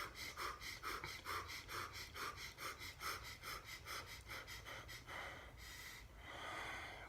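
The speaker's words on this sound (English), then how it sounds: "burst breathing is a quick inhale through the nose, and then you open your mouth and just allow the air to come out" Rapid burst breathing as a Systema exercise: quick sharp nasal inhales each followed by a released breath through an open mouth, repeated in a fast steady rhythm close to the listener, ending with a longer exhale.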